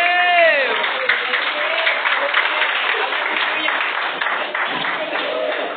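Applause from a church congregation fills the space, steady dense clapping throughout with a voice speaking over it at the start and cheering mixed in.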